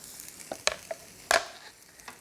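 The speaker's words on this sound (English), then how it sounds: "I'm gonna go ahead now and add that garlic" Minced garlic hits a hot pan, a few quick crackling sizzles and spatters in short bursts, close and fairly faint, with no voices.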